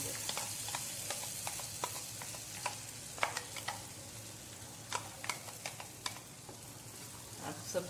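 Mango pulp goes into semolina halwa cooking in a pan, with soft sizzling and repeated stirring scrapes at close range, quiet overall.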